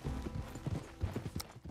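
Horse hooves clip-clop in Red Dead Redemption 2, a quick, fairly quiet patter of steps over a low game background.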